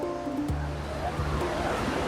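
A Himalayan river running down from Kakbhusandi Tal to its meeting with the Lakshman Ganga rushes in a steady, dense roar of water that continues unbroken throughout.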